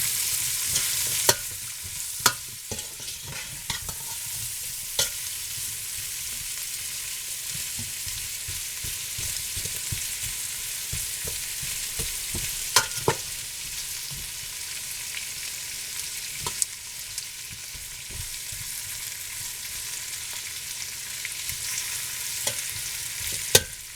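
Chuck roast beef browning in a pot hisses steadily while a utensil stirs it, scattered scraping clicks and knocks recurring close up over the constant sizzle.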